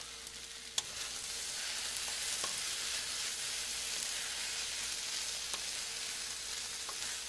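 Thai curry vegetables sizzling in a pan, a steady, even frying hiss close by, with a few faint clicks as a spoon moves them about, and no talking.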